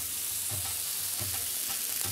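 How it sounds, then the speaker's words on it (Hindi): Ground masala frying in a pan over low gas with a little stock added, a steady close sizzle with soft stirring scrapes at regular intervals, no talking. "ये थोड़ा सा भूनने देते हैं"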